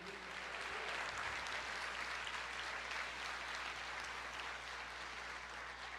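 A church congregation applauds in a steady, dense wash of clapping that stays even for the whole stretch, heard at a moderate distance and with no speech over it.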